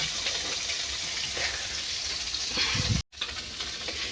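Oil heating and frying in a wok gives a steady, close hiss and crackle that carries on for several seconds, cut off by a brief silent gap near the end before it resumes.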